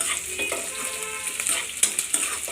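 Crushed garlic frying with browned onions in a pan, a soft crackling sizzle with scraping stirring strokes and a few sharper pops, close and steady, with no talk.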